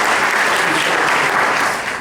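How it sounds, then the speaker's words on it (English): An audience bursts into a dense, loud round of applause for a speaker, with many hands clapping steadily and close for the whole stretch, fading slightly at the end. "let's give him a round of applause"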